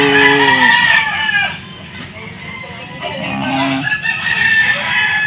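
Many roosters crowing and clucking nearby in a noisy barnyard, with long overlapping crows and clucks filling the whole stretch and staying loud throughout.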